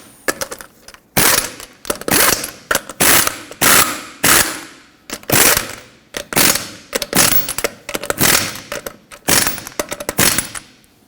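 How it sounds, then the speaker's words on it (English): Lug nuts on the front wheel of a 1995–2004 Toyota Tacoma 2WD being run down and torqued with a ratchet wrench, giving loud, close bursts of rapid clicking in repeated strokes separated by short pauses, with no voice. "Start on all 5 of your lug nuts, bottom them out in a cross pattern, and then also in a cross pattern, tighten them to 83 foot-pounds."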